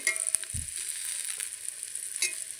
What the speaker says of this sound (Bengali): সিমে দিয়ে বেগুনটা ভাজছি